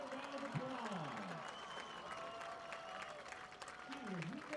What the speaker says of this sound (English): please give all of our band seniors in the class of 2023 one final round of applause